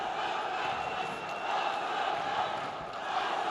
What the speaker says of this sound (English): The crowd though now starting to raise the spirits, raise the roof here in the Basket Hall Arena